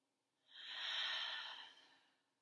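A single long, deep exhale during a grounding breathing exercise, a soft airy whoosh that swells and fades over about two seconds, close and quiet with no talk.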